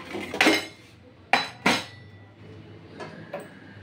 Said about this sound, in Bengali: এই কড়াই বসিয়ে দিলাম।